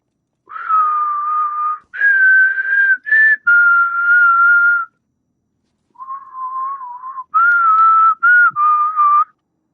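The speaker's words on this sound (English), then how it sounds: "he'll whistle that. That's Savathun's song." A character whistles Savathun's song in the video game Destiny 2: a clear, melodic whistled tune in several sustained phrases with short breaks, loud and close, with no talk over it.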